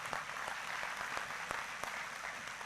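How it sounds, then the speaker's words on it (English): An audience claps steadily in continuous applause, with a few sharper individual claps standing out from the dense patter. "Let's hear a round of applause for those that are committed to doing that."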